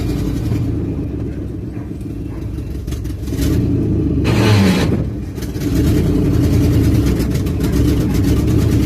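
A car engine running at low idle while the vehicle creeps slowly in reverse, a loud steady rumble that surges briefly midway, then settles back to a constant drone.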